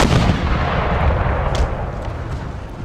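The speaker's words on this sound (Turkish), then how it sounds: "Yeter yordu da beni gereksiz Top atışlarıyla." Cannon artillery fire in the Empire: Total War strategy game, a loud, dense rumble of booming shots rolling together without pause, with no voices.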